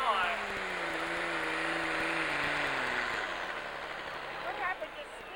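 Distant tractor engine roaring at a 1999 ATPA Pro Stock 10,000 lb tractor pull in Arcola, Indiana, the pitch sliding downward as the machine slows, faint and drowned under a loud announcer.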